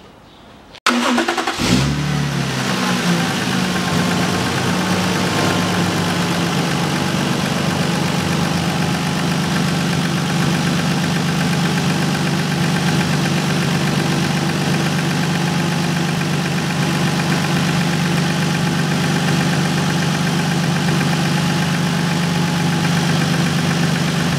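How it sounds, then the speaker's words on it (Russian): A 1998 Toyota Mark II JZX101 engine cranks and catches, then settles into a steady, loud idle that continues unbroken for over twenty seconds. "И заводим наш автомобиль."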